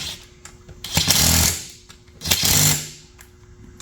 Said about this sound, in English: now that you've kind of gone through with your 1/4-inch impact, being careful not to go crazy with the tightness